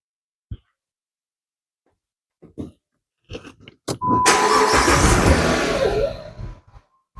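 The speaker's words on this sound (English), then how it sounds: "I'm going to just start the car at idle with no loads on." A few sharp clicks and clunks in a quiet car come first, then the engine cranks, catches and runs loudly at idle with no loads on for about two seconds before fading.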